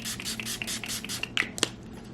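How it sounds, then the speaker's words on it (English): LA Girl setting spray misted onto a face in several short, soft bursts, with a few light clicks and taps between the puffs, close and quiet with no talking. "I will be using this LA Girl Setting Spray."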